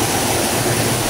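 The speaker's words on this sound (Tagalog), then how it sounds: "susundan lang po natin ang agos ng tubig" Stream water flowing steadily near Lanzones Falls in Siniloan, a loud, unbroken rushing wash with no pauses or voices.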